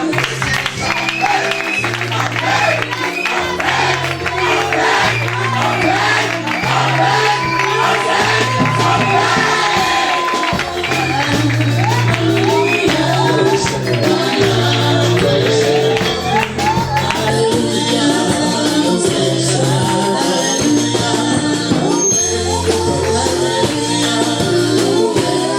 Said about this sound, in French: que le peuple de Dieu acclame très fort